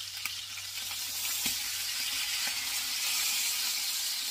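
Chicken thighs sizzle steadily in a hot frying pan, a continuous close crackling hiss with a few sharper pops of spattering grease and no voices.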